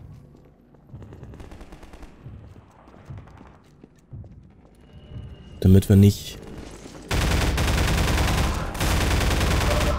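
Machine gun fire in the video game Half-Life 2: a voice talks over quiet game sounds, then short loud bursts of automatic fire hit, followed by several seconds of sustained, dense gunfire.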